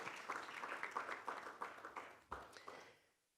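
An audience at a high-level conference in Porto applauds, a moderate, fairly distant patter of clapping hands that thins out and fades into silence over the last second.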